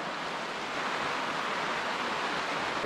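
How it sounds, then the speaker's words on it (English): Heavy rain falls steadily outside a cabin with a leaking roof after days of downpour, a dense, even hiss with no breaks and no talk. "It's been raining like that for about 3 days now."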